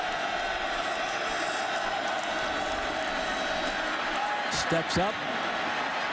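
Stadium crowd at a college football game, Ohio State at Michigan State, a broad steady roar of voices in the background beneath close play-by-play commentary, with a short burst of thuds near the end.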